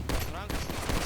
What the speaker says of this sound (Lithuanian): Šaudo kažkas labai.